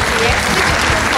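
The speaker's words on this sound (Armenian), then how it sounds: "Ձեր ծափարությունները բարձր" Loud, dense audience applause filling a hall, continuous clapping from a large crowd throughout a short burst.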